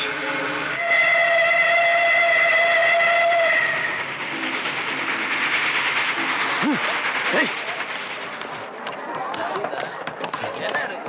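A train horn blares steadily for several seconds, then rumbling and clattering of a train pulling away continue, with voices talking nearby.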